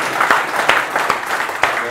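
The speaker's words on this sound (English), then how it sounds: "Round of applause for the construction guy" Scattered clapping from a small group, with a few sharper claps standing out over a steady patter, fairly close and lasting a couple of seconds.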